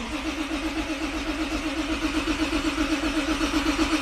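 A JDM car engine cranks repeatedly in a steady churning rhythm without catching, continuous and fairly close for several seconds.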